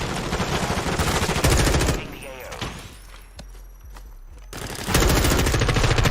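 Sustained automatic gunfire in the multiplayer shooter Modern Warfare 2 rattles loudly, drops away into quieter game ambience with a few scattered shots, then bursts back into heavy continuous fire.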